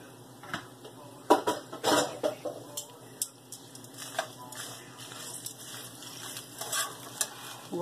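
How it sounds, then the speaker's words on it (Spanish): Fifty grams of dried chiles frying in very hot oil for salsa macha produce a loud crackling sizzle with bursts of popping and a scrape of stirring early on, then a steadier fry. "En este mismo aceite voy a freír mis 50 gramos de chiles secos"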